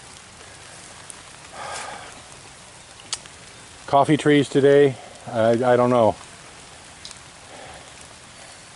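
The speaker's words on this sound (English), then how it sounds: "This rain is actually a blessing because it's keeping me nice and cool." Steady rain patters across a cacao and coffee tree plantation, a constant hiss running through the whole stretch while someone speaks briefly in the middle.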